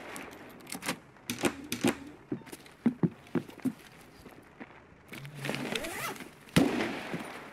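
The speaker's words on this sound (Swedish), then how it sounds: "Jag hör skott här ute på vägen." Gunfire in Escape from Tarkov on the Customs map, a scattered series of sharp cracks with several quick shots at the start and middle, followed by louder bursts near the end, set against quiet in-game ambience.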